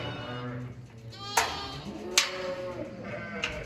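Sheep bleat a few times at close range, short wavering cries rising over a soft background murmur of the flock.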